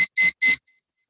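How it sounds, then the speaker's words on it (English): Two loud electronic beeps in quick succession from a liquid level indicator, each a bright sustained tone, followed by a faint trailing echo. "hopefully you can hear that beeping"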